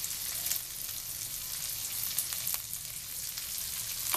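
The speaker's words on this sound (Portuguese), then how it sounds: "Aqui nós vamos deixá-lo fritando um pouquinho aqui no azeite, pegando todos os sabores do azeite" Salmon frying in olive oil in a pan, a steady, soft crackling sizzle with scattered small pops, continuous and fairly close with no voices.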